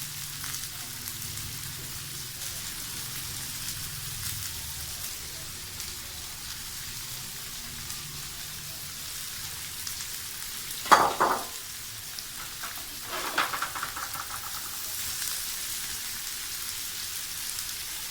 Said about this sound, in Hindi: प्याज को अच्छी तरह हमने फ्राई कर लेना है